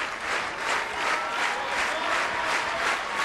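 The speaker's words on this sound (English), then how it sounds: "The rhythmic clapping of this very, very knowledgeable Oregon track crowd" A knowledgeable Oregon track crowd claps in steady rhythm during a Pac-12 championship 800m race, a continuous pulsing wash of many hands heard from a distance.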